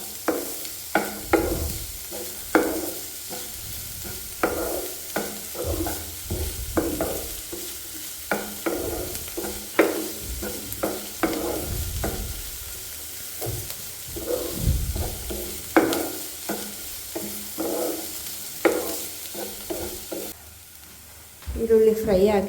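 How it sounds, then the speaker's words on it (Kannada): Onion fries in a pan with a steady crackling sizzle under frequent, irregular scraping and stirring strokes, and the sound quiets briefly near the end. "ಈರುಳ್ಳಿ ಫ್ರೈ ಆಗಿದೆ"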